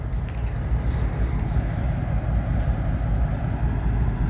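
A train rolls past in Bridgeport, Alabama, a steady broad low rumble that stays loud and continuous throughout with no voices.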